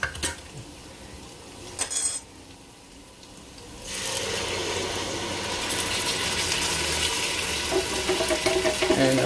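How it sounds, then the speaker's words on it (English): Pepper puree sauce being scooped from a metal can in a kitchen, with a sharp scraping clatter early on, then a steady, wet, rasping scrape of utensil against the can. "I'll just scoop out the rest of the sauce that's in the can"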